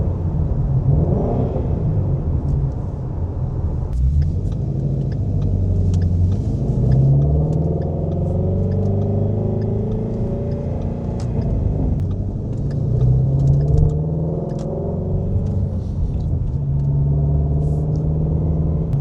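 A Ford Shelby GT350 with the 5.2-litre Voodoo V8 idles and rumbles steadily at close range, a deep throbbing drone with a few swells in revs, with no talking over it.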